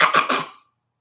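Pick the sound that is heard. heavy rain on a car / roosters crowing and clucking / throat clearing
throat clearing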